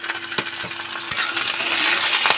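Khar kol leaf paste fries in a pan with a continuous bright hiss, broken by a few sharp scrapes and clicks as it is stirred.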